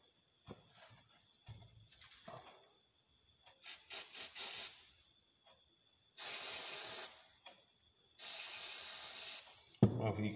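Carb cleaner sprayed through a Honda CRF150F carburetor, two sustained hissing bursts of about a second each, close and fairly loud, separated by quieter handling noises and a sharp clink near the end.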